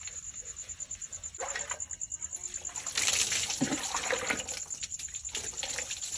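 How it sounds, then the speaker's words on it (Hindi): Fresh water pours into a container before a train trip from a village home, a steady splashing gush that grows louder midway, with faint voices now and then. "चलो पहले एक बार पानी फ्रेश डाल लेते हैं"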